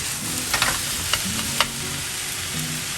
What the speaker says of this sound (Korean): 마지막으로 양파, 파프리카를 넣고 볶아줍니다.